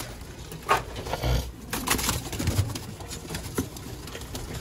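Pigeons kept by a Sialkot pigeon fancier coo softly nearby in short, repeated throaty calls against a quiet background, with faint rustling between them.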